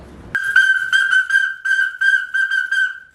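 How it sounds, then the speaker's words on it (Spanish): A shrill safety whistle is blown in a quick series of short bursts, loud and close, with brief gaps between blasts, on a mountain trail to Pico Duarte, Dominican Republic. "Hay que llevarse un silbato por si te pierdes en la oscuridad."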